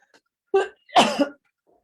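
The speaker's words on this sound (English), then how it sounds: "Water makes me cough." Two short coughing bursts from a person with Parkinson's disease, triggered by water, the second harsher and longer, close and fairly loud with a faint throat sound before them.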